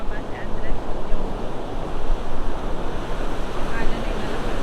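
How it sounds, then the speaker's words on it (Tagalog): Strong ocean waves rolling onto a sandy beach, a continuous loud roar of surf mixed with heavy wind buffeting the microphone, with voices faintly underneath. "alon ay malakas."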